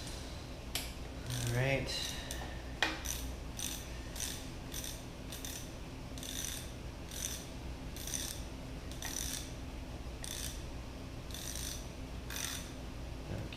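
A 12 mm ratchet tightening water pump bolts on a 4AGE engine during a rebuild gives a run of regular, close clicking strokes with a brief spoken word near the start.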